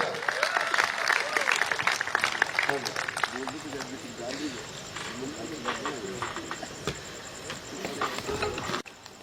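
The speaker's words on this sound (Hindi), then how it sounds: "जोरदार तालियां मैम के लिए, जोरदार तालियां।" Audience applause at a Hindi-language training programme event, a broad wash of clapping from a crowd lasting several seconds, with chatter and a voice underneath.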